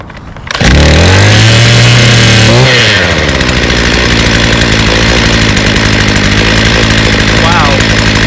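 A small two-stroke power tool engine catches on the first pull, at a garden equipment tune-up with a carburetor being adjusted, then settles into a loud, steady, buzzing idle close by.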